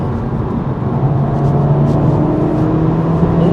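Engine of a 2017 Honda Civic Type R FK8 with its turbo spooled up, a loud sustained droning roar heard from inside the car, steady and unbroken with no voices.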